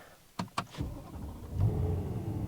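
A BMW E92 M3 Lime Rock Park Edition starts up with a couple of sharp clicks, then the engine catches and settles into a steady, fairly muted idle.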